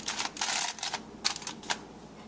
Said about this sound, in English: I'm covering this with foil. Just make a nice tight seal right here.